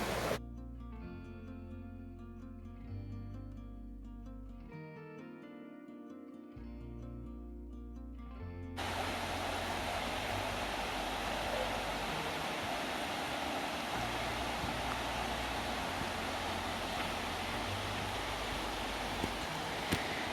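Broad steady rush of a shallow, wide river flowing through wooded Dartmoor valley under tree cover, loud and continuous for the second half, preceded by a quieter stretch with tonal, music-like sound.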